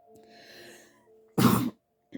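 A single sharp cough bursts out loudly near the end, after a stretch of quiet background tones, followed by a faint start of a second sound.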